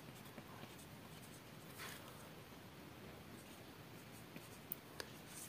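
A pen or marker writing math by hand on a board or paper makes a faint, continuous scratchy rustle, close, with a couple of small taps near the end and no speech.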